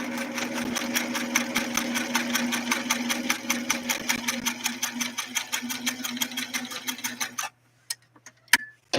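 A Singer Stylist sewing machine runs a straight stitch through satin fabric, a steady rapid needle clatter with a low motor hum for about seven seconds, then stops, leaving a few faint clicks and taps.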